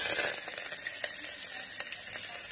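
Onion, green chili and garlic hit hot mustard oil in a pan, giving a loud, close, steady hiss with scattered crackling pops, fading slightly after a sharper opening burst.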